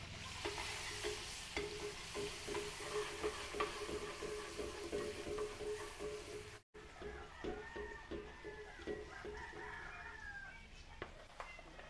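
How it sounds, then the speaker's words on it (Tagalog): Garlic sautés in margarine and oil for a puchero, a steady close sizzle broken by stirring scrapes, with a rooster crowing faintly in the background partway through. "Gisa tayo ng bawang."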